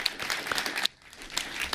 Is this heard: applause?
yes